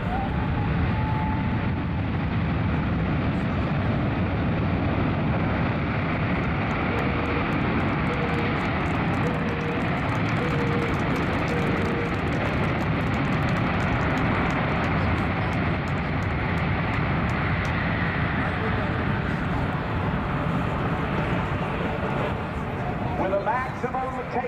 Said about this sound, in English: Here come the thrust reversers, and here comes the noise.